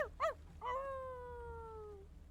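A single drawn-out animal howl in a video game, wavering then holding steady for over a second, preceded by two short yelps, with a faint low hum underneath.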